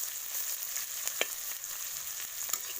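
Chopped onion and a little sugar sizzle steadily in a pan over a wood fire, a continuous hiss with occasional faint stirring clicks.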